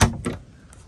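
A wooden drawer in a DIY under-bench storage build in a tent trailer slides out with a short near thump and a second softer knock, then quiet.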